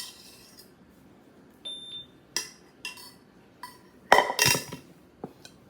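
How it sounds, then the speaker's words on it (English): Metal spoon clinking and scraping in a bowl as plantain is cut into flour for plantain wraps, several separate light knocks and clinks, close and fairly quiet, with one louder scraping burst near the end. "cut it in with the spoon before I dip my hands in"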